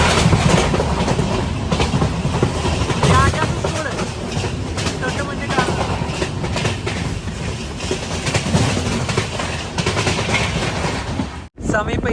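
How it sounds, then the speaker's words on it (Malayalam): The Kochuveli–Rishikesh Express pulls into Kasaragod station with a loud, continuous rumble and rhythmic clatter of wheels over rail joints, heard close from on board, with faint voices mixed into the din. "കാസർഗോഡ് റെയിൽവേ സ്റ്റേഷനിലേക്ക് ഇതാ ട്രെയിൻ എത്തിക്കൊണ്ടിരിക്കുകയാണ്"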